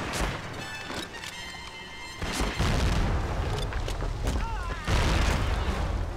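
Grenade explosion in a video game, a heavy boom followed by rumbling blasts and scattered gunfire, loud and close with voices shouting.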